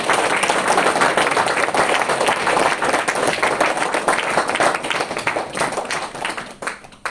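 An audience claps loudly and thickly in a dense burst of applause at a large gathering. It stays strong for most of the time, then thins and fades toward the end.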